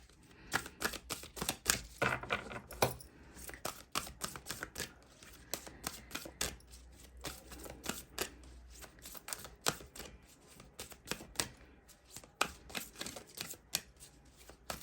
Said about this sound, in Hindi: एनर्जी ऑरेकल कार्ड से मैं 2 कार्ड निकालूंगी